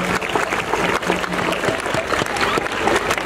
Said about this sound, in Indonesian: Tepuk tangan untuk adik-adik kita.